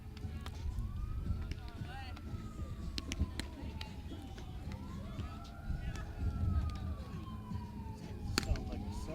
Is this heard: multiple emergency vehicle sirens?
yes